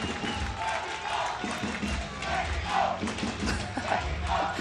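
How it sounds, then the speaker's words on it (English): A packed stadium crowd roars and cheers continuously at the Recurve team finals of the 2017 Hyundai Archery World Championships in Mexico City, dense and loud, with rising shouts and voices throughout. "the crowd here is going to go absolutely ballistic"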